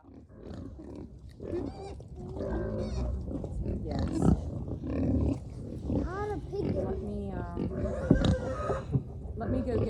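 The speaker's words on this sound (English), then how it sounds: "We got a pig in here we can't get out." A pig stuck inside an enclosure on a farm grunts and squeals loudly and repeatedly, close by, with people talking over and around it.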